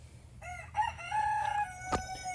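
A backyard hen gives a run of high, thin chirping calls close by, a few drawn-out notes rising and falling over about two seconds, with a short sharp sound near the end.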